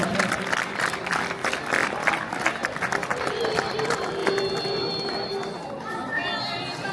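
Children applauding loudly at a district-level youth panchayat event in Sirsa, a dense burst of crowd clapping and cheering that gives way to voices and a speaking tone near the end.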